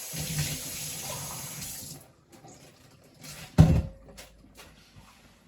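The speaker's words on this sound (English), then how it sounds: "Wash my hands." Hands are rinsed under a running kitchen tap after picking a crab, steady close splashing water that cuts off, followed by a sharp knock and faint handling noises.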